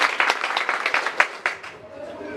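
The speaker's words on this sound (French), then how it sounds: "Sur applaudissement pour vous." An audience at a women's ceremony claps with sharp, uneven hand claps. The applause tapers off toward the end as a voice begins to speak.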